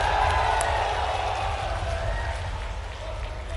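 A crowd at a political rally claps and cheers, a dense wash of applause and voices filling the space at moderate distance, continuous and fading slightly toward the end.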